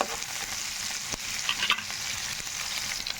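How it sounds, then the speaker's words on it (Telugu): Green chilies and seasonings frying in oil for a leftover-rice tempering dish, a steady close sizzle with a couple of brief stirring clicks, no voices. "ఇవన్నీ చక్కగా ఫ్రై అవ్వాలండి"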